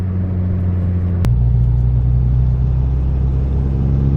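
A Volkswagen Golf GTI Mk7 engine drones steadily from inside the cabin, a low rumbling hum that shifts pitch slightly partway through as the car keeps driving.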